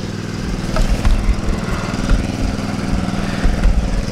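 A walk-behind auger's small gasoline engine runs steadily nearby, a loud, even mechanical drone with a rough low rumble and no speech.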